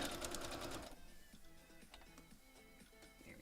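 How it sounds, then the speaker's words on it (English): A home sewing machine stitches a foundation paper pieced seam, with a close, rapid mechanical clatter at first that then drops to quieter, lighter ticking of the needle running along the line. "now I'm going to sew right along that solid line."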